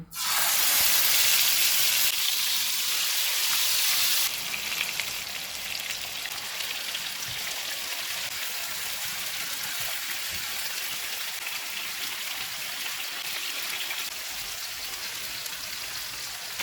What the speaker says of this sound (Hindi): ऑयल गर्म हो गया, इसमें मैरिनेटेड चिकन रखेंगे